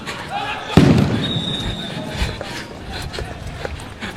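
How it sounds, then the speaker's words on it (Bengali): Sound grenades thrown one after another during a police crackdown on a street protest, a sharp loud bang followed by scattered thuds and commotion, with voices in the background. "একের পর এক সাউন্ড গ্রেনেড নিক্ষেপ করা হচ্ছে।"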